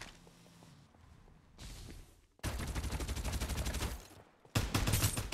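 Rapid automatic gunfire from the Farlight 84 shooter game, two sustained loud bursts of dense repeated shots after quieter game ambience, with no talking.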